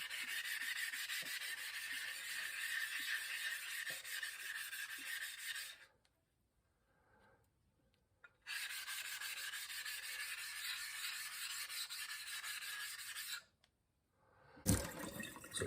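A 400-grit Thleite budget splash waterstone being flattened on a stone flattener, with steady wet rasping and rubbing strokes, two short pauses, then a clunk as the grinding resumes.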